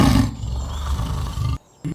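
A lion roars loudly and close into a well, a deep, rough burst that fills nearly two seconds before cutting off abruptly, with a brief echo-like return at the end.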